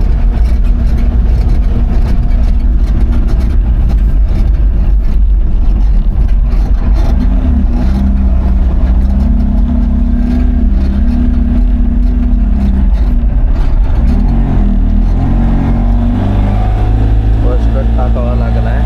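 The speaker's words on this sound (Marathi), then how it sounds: "आता गाडी बघूया किती वेळा गेअरवरती चढेल ते." A loaded vehicle carrying rice from a mill climbs a ghat hill road in gear, its engine droning loud and close with a heavy low rumble and shifting pitch throughout, while a voice speaks faintly under it.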